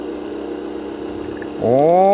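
A Hilti DSH 600-22 22V cordless cut-off saw for concrete spins up from a low background hum into a steady, loud whine whose pitch climbs as it reaches idle speed, running alone without talk.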